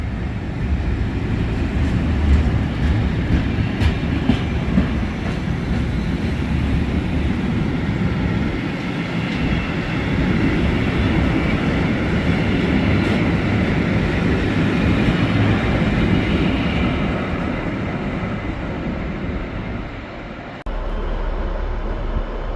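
An empty China Clay freight train passing on the line from Workington to Aberdeen Waterloo makes a loud, continuous rumble with wheel clatter, sustained before fading near the end, with no talk.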